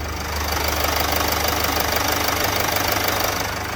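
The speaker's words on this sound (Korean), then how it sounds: "일단 엔진 소리부터 들려드리고 영상 시작하겠습니다" Diesel car engine idling with the engine bay open, a steady close, even rumble with a faint rhythmic knock running unchanged throughout.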